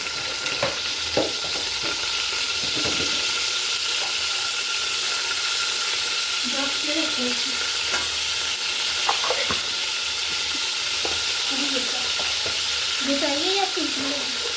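Chopped tomatoes with garlic and ginger frying in a pan for aloo gobi salan, a steady close sizzle with scattered stirring scrapes and clicks throughout, no talking.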